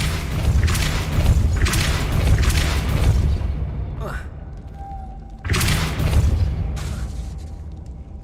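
A Depulso force spell cast in Hogwarts Legacy: a sharp, heavy thump with a booming burst, then a brief whooshing sweep, followed by a second loud blast, all close and forceful over background game sound.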